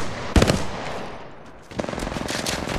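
Gunfire in the battle royale game Apex Legends Mobile: a sharp nearby burst, a short lull, then a rapid rattling string of automatic shots that carries to the end.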